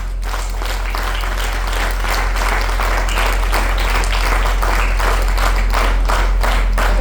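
A large audience at a seminar applauds in a dense, steady wash of clapping that holds evenly for several seconds.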